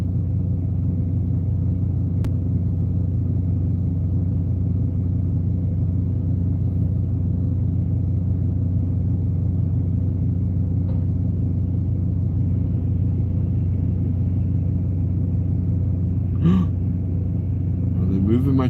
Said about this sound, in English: Moving my trailer.